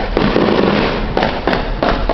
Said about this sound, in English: You can have gigantic fireworks parties.